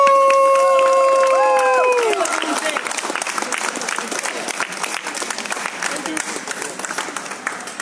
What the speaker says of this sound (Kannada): ಮಹಾಗುರುಗಳ ಒಂದ್ಸಲ ಜೋರ ಚಪ್ಪಾಳೆ ಮೂಲಕ ವೆಲ್ಕಮ್ ಮಾಡೋಣ.